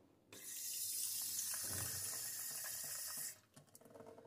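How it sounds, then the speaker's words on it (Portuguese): Water runs steadily from a tap into a small pot for washing makeup brushes, a close, continuous splashing rush that stops abruptly, leaving faint clinks and handling sounds. "vou pegar meu potinho e vou colocar água"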